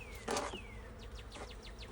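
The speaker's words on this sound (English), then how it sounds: "Okay, we have another full frame of bees." Honeybees drone around a full frame lifted from a hive on a quiet day, a soft continuous buzz with a few louder passes of individual bees flying close by.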